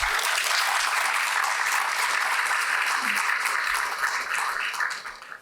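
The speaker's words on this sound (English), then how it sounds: "May we please welcome them with a warm round of applause." A large audience gives dense, sustained applause welcoming a panel at a public debate on the Greater Bengaluru Governance Act. It stays loud and even throughout and tapers slightly at the close.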